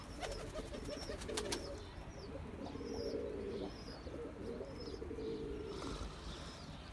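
Pigeons coo repeatedly in a loft with an old male among the flock, low rolling calls rising and falling over steady chirping and rustling, close and continuous, with a few sharp taps near the start.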